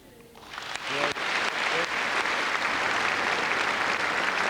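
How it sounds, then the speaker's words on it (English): A party conference audience breaks into applause that swells from quiet within the first second into a loud, sustained wash of clapping, with a few sharper claps standing out near the start. "a number of representatives rise to applaud him"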